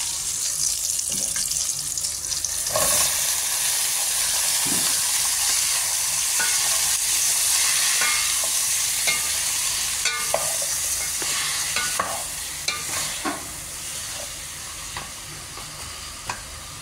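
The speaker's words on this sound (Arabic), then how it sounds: "هسه راح اضيف البامية تحمس" Okra frying in a pot with sautéed garlic and meat, a steady close sizzle with stirring scrapes and occasional clinks throughout, no talking.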